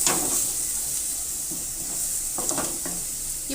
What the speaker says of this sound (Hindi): तो थोड़ा सा इसको भूनेंगे।